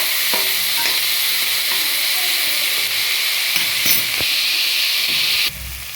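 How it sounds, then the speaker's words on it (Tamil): A handful of mint leaves sautéed in a pan for vada curry, a steady close sizzle with scattered stirring scrapes throughout that drop off just before the end. "ஒரு கைப்பிடி அளவு புதினா சேர்த்துக்கோங்க அதையும் நல்லா வதக்கிக்கோங்க"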